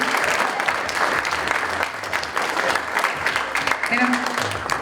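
A school district audience claps for a program assistant at a production of Clockwork, with dense applause running the whole time and some voices underneath.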